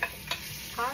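Caldereta sautéing in a pan, a steady close sizzle broken by a few short stirring scrapes.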